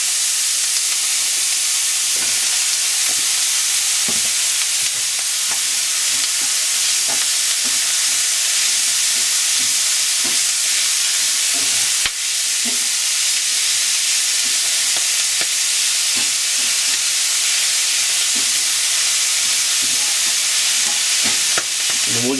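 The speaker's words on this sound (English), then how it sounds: "I like to kind of saute the greens a little bit before I start stewing them" Collard greens sautéing in a hot pan before stewing, a loud steady hiss of frying with repeated scraping and clicking stirring strokes over a long stretch.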